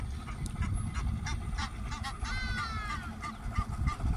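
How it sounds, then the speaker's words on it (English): Repeated honking, quacking mallard duck calls over a steady low speedboat engine rumble, with a few clear rising call contours in the middle. "sounds of the ibis, the mallard ducks"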